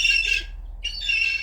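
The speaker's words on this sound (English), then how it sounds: "That's a baby seagull, and he's been on the roof banging a little plastic sausage thing around." Baby seagull on a rooftop gives two loud, harsh squawks close by, with a short silent gap between the calls.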